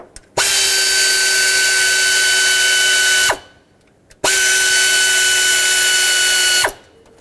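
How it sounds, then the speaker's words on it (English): Two long, steady bursts of a power ratchet or drill running down timing chain guide bolts on a 5.4L Ford F-150 engine, each lasting about three seconds with a brief pause between, loud and close with no talking. "let's run these down and then torque them"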